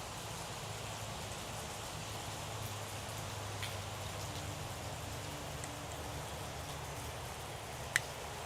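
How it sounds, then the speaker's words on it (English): Steady rain falling outside, a soft continuous hiss of drops on surfaces, faint and even, with a brief sharp tick near the end and no voices. "I gotta be careful too because it's raining outside."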